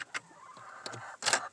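Chickens in a backyard coop clucking in short bursts, with a louder flurry of clucks and rustling near the end, close by and without talk.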